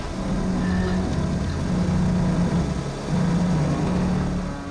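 Heavy tow trucks rev hard while straining to pull a frozen tractor trailer on a foggy highway, with a loud, sustained low engine roar that surges in waves.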